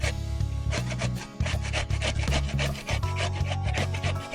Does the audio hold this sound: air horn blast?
no